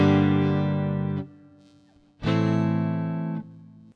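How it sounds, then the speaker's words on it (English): Electric guitar played through a Fender Mustang Micro Plus on spring reverb, two bright sustained chords close up, each ringing out and decaying into a short springy tail with a pause between them. "Spring reverb."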